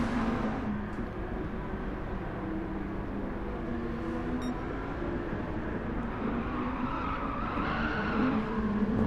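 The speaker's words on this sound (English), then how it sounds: "Wheel arch rubbing going on there." Cars jostling and rubbing wheel arches during a Gran Turismo 7 race at Catalunya, a steady loud wash of engine roar with scraping tire and body-contact noise throughout, no voices.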